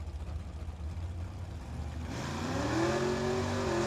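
A Corvette drag racing car at Firebird Motorsports Park revs its engine, a low rumble climbing into a rising, fairly distant whine over the last couple of seconds, with almost no talk.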